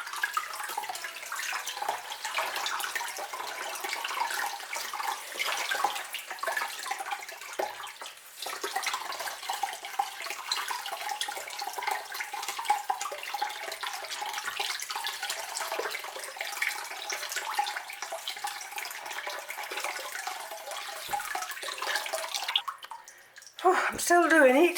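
Water runs steadily from a tap into a sink over a potted orchid's sphagnum moss, a continuous splashing stream for most of the time before a brief break and a final clatter at the end.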